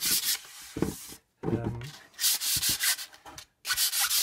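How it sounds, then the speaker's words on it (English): Sandpaper rubs along the grain of painted wood in short, loud, rasping strokes repeated close up, with brief pauses between passes. "it might just make it even more interesting if we can give it a bit of sandpaper over"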